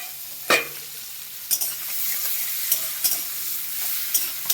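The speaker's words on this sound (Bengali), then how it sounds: "পেঁয়াজটা মোটামুটি ভাজা ভাজা হয়ে গেছে" Onions frying in a pan for chicken stew give a soft, steady sizzle, broken by several sharp clacks of a spoon stirring against the pan.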